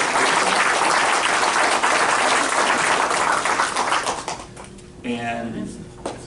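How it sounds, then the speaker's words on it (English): A luncheon audience in Atlanta applauds the panel, with dense, steady clapping for about four seconds that then thins out and fades, giving way to a voice speaking near the end. "let's give the panel a round of applause for this"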